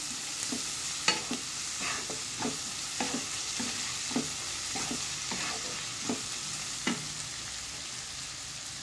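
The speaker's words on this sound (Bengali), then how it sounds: "সসটাকে দিয়ে আবার একটু নেড়ে চেড়ে নিব।" Chicken pasta stirred in a sizzling pan after soy sauce goes in, with a spoon scraping in regular strokes about once a second over a steady close fry.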